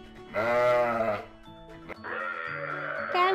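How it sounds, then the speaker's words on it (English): A sheep bleats loudly in two wavering calls, close and clear, with a short pause between them. "Sheep."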